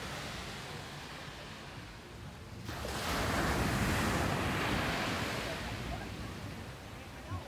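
Sea surf breaking on a rocky beach below a lighthouse in Dakar, a steady loud wash with a swelling surge midway, mixed with wind buffeting the microphone.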